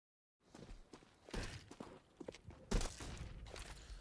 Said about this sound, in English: Lots of footsteps heard in mid